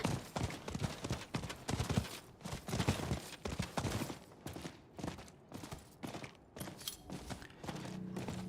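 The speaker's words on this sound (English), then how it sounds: "Let's summon our horsey." Hoofbeats of a summoned horse mount in Diablo IV, a rapid rhythmic clip-clop of galloping hooves, loud and near, running continuously through the game sound.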